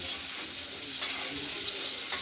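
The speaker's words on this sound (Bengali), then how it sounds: "আমরা আলুগুলোকে ভাজা ভাজা করছি।" New potatoes frying in a pan for a paneer and tomato curry give a soft, steady sizzle and hiss that runs unbroken throughout and stays fairly quiet.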